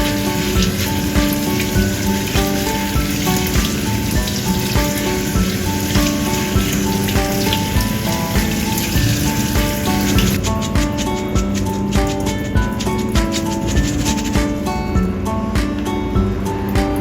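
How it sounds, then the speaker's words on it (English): Barley is rinsed and swished in water for a dessert, a continuous close, busy splashing and rubbing wash, steady throughout with sharper clicks and agitation toward the end. "Wash barley and set aside."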